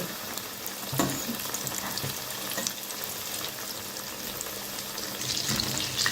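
Chicken strips fry in hot oil, a steady crackling sizzle with scattered sharper pops and faint clinks of utensils, close and unbroken across the whole stretch.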